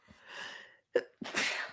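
A single sharp sneeze bursts out close up after a soft breathy inhale, followed by a brief gasp and a noisy exhale, in an indoor podcast-style setting.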